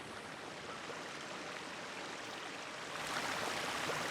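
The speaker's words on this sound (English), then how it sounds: "Water, yep. Everybody knows what water sounds like though" Water flows steadily as a continuous soft rushing wash in the video game A Letter to the Future. It is faint and even, and grows slightly louder near the end.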